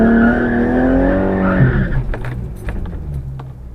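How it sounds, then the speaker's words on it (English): An Infiniti G35 doing a burnout at a drag strip: a loud, close engine roar holds steady, then fades into raw tire-spin noise and scrubbing. "Nice healthy burnout there."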